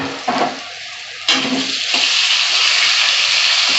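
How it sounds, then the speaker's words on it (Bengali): Pointed gourd fries in oil with salt and turmeric, a loud hiss bursting in twice as pieces hit or shift in the hot pan, then settling into a steady close sizzle. "একটু লবণ, একটু হলুদ দিয়ে পটলটা আমি ভেজে নিচ্ছি।"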